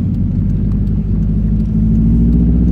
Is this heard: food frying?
no